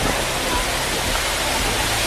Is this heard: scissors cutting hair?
no